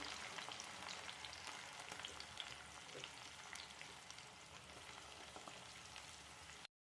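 Cumin, green chillies and finely chopped onions fry in a pan for paneer bhurji, giving a steady, dense sizzle with fine crackles that runs unbroken and fairly close until it cuts off abruptly.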